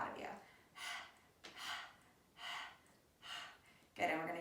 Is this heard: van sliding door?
no